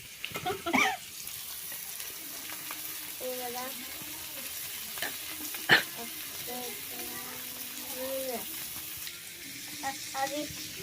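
Pomfret fish frying in a pan over a gas stove, a steady low sizzle running throughout with a few louder clinks and spatters, while a voice talks over it.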